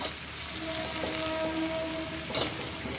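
Fried banana flower tipped into a hot pan sizzles steadily, a constant crackle of oil with a brief louder burst near the end as more goes in; no talking.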